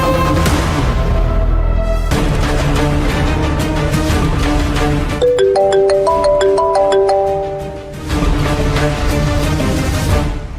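Electronic music plays loudly and continuously in a Kannada TV serial scene, with a repeating melodic chime pattern in the middle like a phone ringtone, and no speech.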